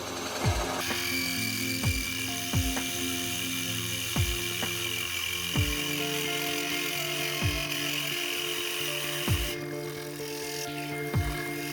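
A Forstner bit bores out the inside of a natural-edge wooden vase on a woodturning lathe, giving a steady, close motor whine. Sharp thumps recur every second or so the whole time.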